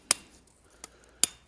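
Three sharp hammer blows planishing hot steel while forging a latch. Each is a bright, ringing metallic strike, evenly spaced, close and loud, with silence in between.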